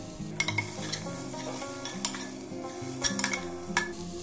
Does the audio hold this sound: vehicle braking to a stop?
no